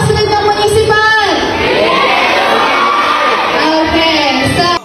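A crowd at an awarding ceremony cheers and whoops loudly and steadily, with shouts and yells over continuous excited noise.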